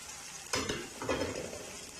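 Scrambled eggs tossed with cooked peas in a hot pan, with a soft sizzle and two quick bursts of spatula stirring and scraping, close and fairly quiet.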